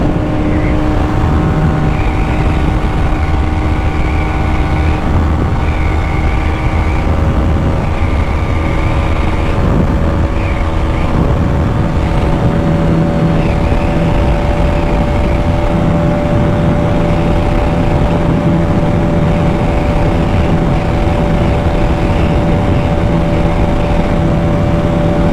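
A Bajaj Pulsar NS200 BS6 motorcycle is ridden at speed, its engine droning steadily throughout with heavy wind rush, loud and continuous, with some shifts in engine pitch.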